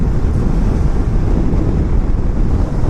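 Steady, loud wind roar buffeting a motorcycle helmet while riding a 2019 Yamaha Niken, a continuous low rushing noise with no breaks and no voices.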